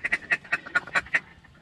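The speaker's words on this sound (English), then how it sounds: "You gotta take a video of all the birds in the blind." Ducks quack in a rapid series of about eight loud, close calls that trail off toward the end, heard from inside a hunting blind.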